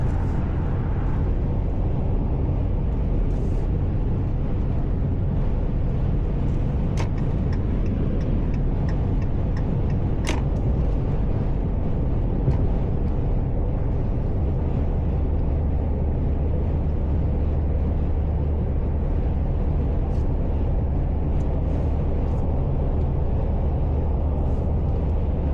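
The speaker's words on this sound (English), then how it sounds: "So cruising on the freeway, there's traffic right now" A 2021 RAM 1500 Classic crew cab pickup cruises on a freeway in traffic, with constant loud engine drone and road roar throughout and a few faint ticks inside the cab.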